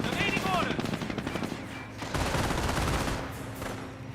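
Dense burst of gunfire from a half-track firing on a mortar team in the World War II strategy game Company of Heroes, a steady crackling barrage with machine-gun rattle running through the whole stretch, loudest at the start and after the middle.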